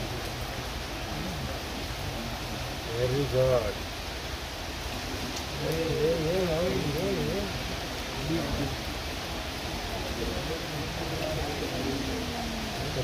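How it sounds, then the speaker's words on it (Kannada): Heavy rain pours steadily across an outdoor venue during a Bengaluru championship final match, a constant broad hiss that stays loud throughout while a few people talk and call out over it. "ಮಳೆ ತುಂಬ ಜೋರಾಯಿತು."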